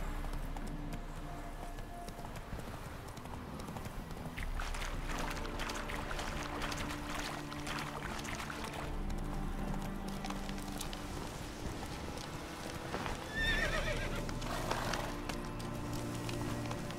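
Horse hooves clip-clopping at a trot in The Witcher 3 video game, steady rhythmic beats over soft ambient game sound, without clear neighing.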